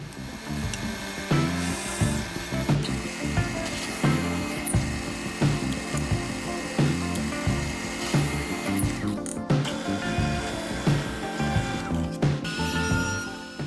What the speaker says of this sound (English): drilling the bolt holes to match the locations that are already on the bed